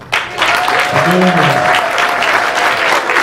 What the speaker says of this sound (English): everybody put a real loud applause together for Gina Marie and Hollywood Palms.